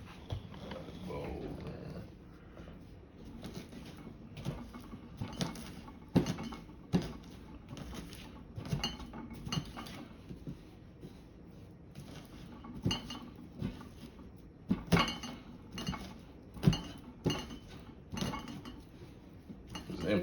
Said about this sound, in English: you really want to smash that garlic up as much as possible